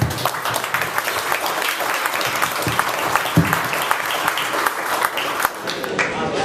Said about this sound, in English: you really have got to applaud yourselves for the performance last year